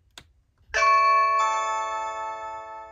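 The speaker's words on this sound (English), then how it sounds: "listen to how loud the chime is on this thing." Blink video doorbell chime mounted on a front door rings once with a loud, bright two-tone ding-dong that sustains and slowly fades, preceded by a faint click of the button press.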